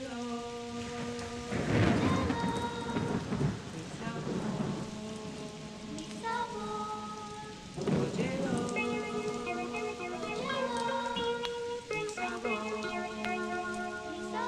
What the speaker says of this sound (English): When you're listening it to loud, the raindrops are serious.